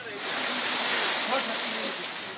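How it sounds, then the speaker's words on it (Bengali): Heavy monsoon rain pours down in a dense, even hiss across the whole stretch, with a faint voice barely audible under the downpour. "বৃষ্টি অব্যাহত থাকায় বিভিন্ন জেলায় জনজীবন বিপর্যস্ত হয়ে পড়েছে।"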